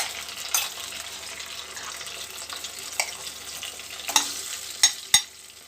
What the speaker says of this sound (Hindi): अब मैं इसमें जो मैरिनेट करके रखा है चिकन वो